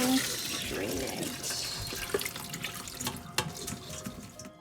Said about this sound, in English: my broccoli has been sitting, so I'm going to go ahead and drain it